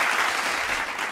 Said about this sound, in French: Applaudissements les amis